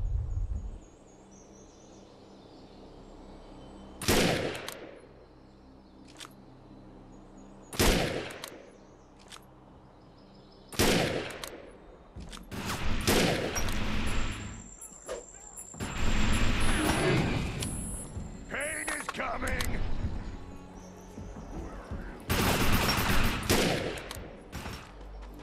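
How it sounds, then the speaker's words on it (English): Sniper rifle fire against raiders in the video game Defiance: sharp, loud single shots spaced a few seconds apart, then denser bursts of gunfire and impacts over a constant game soundtrack. "Time to practice sniping. We got more raiders incoming."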